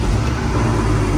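Porsche 718 Boxster T flat-six engine idling right after starting with the exhaust valves closed, a steady low rumble held at constant, fairly loud level close by.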